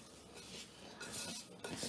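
Clam meat being mixed by hand with chili powder, turmeric and salt, a soft wet squelching and rubbing, close and fairly quiet, with light clinks against a bowl.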